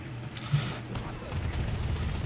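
Rapid overlapping gunfire in the video game Pax Autocratica, dense bursts of shots and low booms in a busy continuous barrage, with a voice talking over the action.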